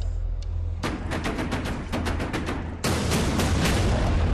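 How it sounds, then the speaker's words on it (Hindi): Wartime shelling and gunfire in Irpin, Ukraine, heard as a dense rapid series of sharp bangs and cracks that breaks off and then resumes louder, with no speech. "राजधानी कीव के बाहर इरपिन में जबरदस्त बमबारी हो रही है,"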